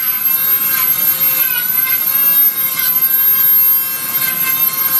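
A Dremel rotary tool carves a wood spirit wizard figure from wood, a loud continuous high-pitched whine with slight pulsing as the bit bites in, running steadily throughout with no talk.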